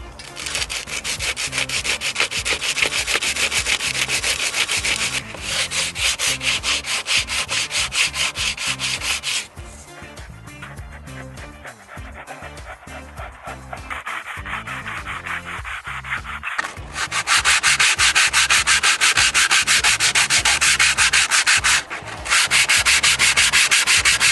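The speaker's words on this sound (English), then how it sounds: "I now need to sand away the excess" Steady, loud rasping strokes of coarse sandpaper wrapped around a wooden block rubbing back and forth on a dormer window's wood, continuous with a brief lighter passage midway.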